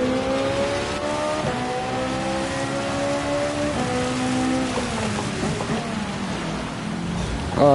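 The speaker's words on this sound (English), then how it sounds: "since it's constantly gonna be raining, the dry line probably won't form" Steady rain hisses over a race car in Gran Turismo 7, mixed with the engine's droning tones that rise and fall as it accelerates and shifts, loud and continuous throughout.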